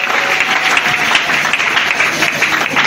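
A church congregation bursts into strong, steady applause, a dense crackle of many hands clapping together throughout the short span with no pause.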